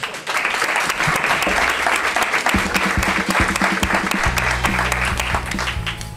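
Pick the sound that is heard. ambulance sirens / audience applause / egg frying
audience applause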